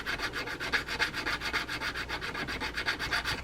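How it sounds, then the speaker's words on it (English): A chrome-flaked drag washer from an Abu Ambassadeur 5501 C3 fishing reel is sanded with quick, even back-and-forth strokes, a close rhythmic rasping with no talk. "I'm just going to run it over the top so that I can smooth out those little flakes of chrome that are on there"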